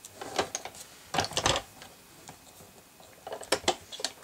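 A Cuttlebug die-cutting machine is hand-cranked to push a QuicKutz die through, producing quiet, irregular ticking and clicking bursts close by.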